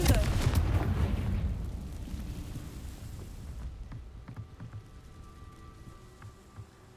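A Confringo fire spell blasts in Hogwarts Legacy, a booming explosive burst at the start that fades over several seconds into a low rumble, with faint scattered clicks afterward.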